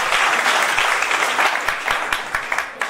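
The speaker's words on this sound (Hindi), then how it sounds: "जोरदार ताली हो जाए हमारे नए गेस्ट के लिए।" Seminar audience gives loud, dense applause for new first-time guests, a thick roar of clapping that thins toward the end into a few separate louder claps.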